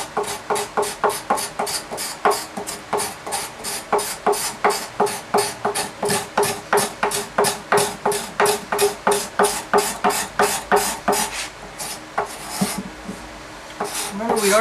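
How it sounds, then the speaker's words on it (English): A carved wooden guitar neck is being scraped and sanded in fast, even strokes, each stroke a crisp rasp. Dozens of them repeat in a steady back-and-forth rhythm, close up and fairly loud, slowing slightly toward the end. "Now I'm ready to do some scraping"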